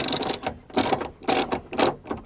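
Ratchet undoing 10mm bolts on the window motor of a Mk1 Toyota MR2, giving four close bursts of rapid metallic clicking with brief pauses between them, loud and alone.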